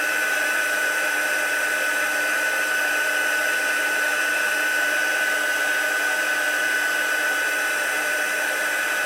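Steady, loud whirring blast of a heat tool melting embossing powder on a wirework card, continuous and unchanging throughout with no talk.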